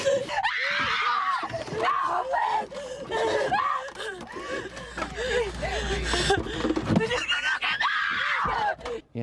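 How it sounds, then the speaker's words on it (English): A woman's high, shrill screams on a horror-film set, repeated in wavering bursts with gasps and whimpers between them, loud and close. "The screaming of a woman."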